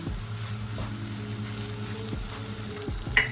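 Rice is folded into soft fried tomatoes in a pan for tomato rice, making a gentle frying sizzle with light stirring scrapes. A low tonal hum sits underneath, and a small clatter comes near the end.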